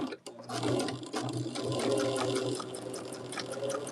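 A sewing machine stitches fabric while piecing a quilt block, making a fast, even mechanical whir with rapid needle ticks. It runs near and steady for a few seconds after a brief start.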